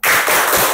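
A classroom group does the rhythmic 'good job' clap together, producing a dense, loud burst of many hands clapping at once that lasts under a second, with no speech.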